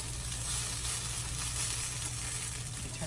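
Coconut mini pancakes frying in a pan on medium heat with little oil, a steady hissing sizzle throughout, close and fairly quiet with no talking.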